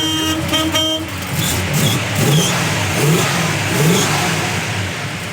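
A 1969 Plymouth Satellite Roadrunner idles with a deep, rumbling exhaust, then revs several times in quick succession, each rev rising and falling sharply, close by and loud with no talking.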